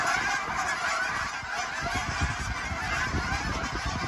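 A flock of a couple of hundred geese honks continuously as it takes off, many overlapping calls forming a loud, busy chorus with a whooshing undertone of wings.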